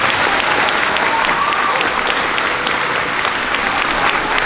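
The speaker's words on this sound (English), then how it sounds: "Give them a round of applause." A sustained round of clapping from parents and guests at an elementary school fifth grade moving-up ceremony, steady and fairly loud throughout, with scattered voices mixed in.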